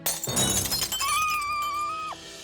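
Glass figurines shatter in a cartoon scene, a sharp crash of breaking glass followed by ringing, tinkling shards and a long sustained tone that fades out, loud and close, with no talking.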